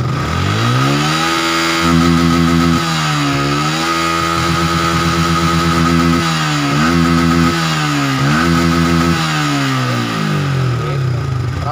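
A Yamaha Vixion motorcycle engine revs loudly and close by in a workshop, its pitch climbing and falling in repeated throttle blips over a steady idle.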